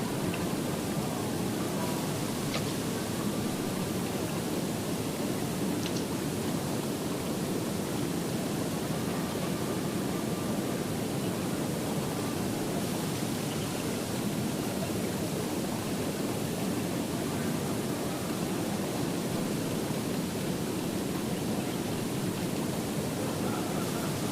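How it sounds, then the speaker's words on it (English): Roaring water of Niagara Falls, a steady broadband rush that holds at an even, loud level throughout with no talk over it. "the farther we walked, the louder the water became"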